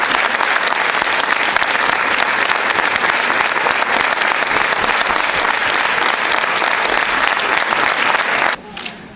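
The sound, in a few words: audience applauding Nelson Mandela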